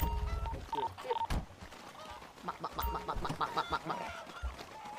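Chickens cluck and squawk in GTA Online, several short bursts under loud voice-chat talk, with a harsh burst of game noise.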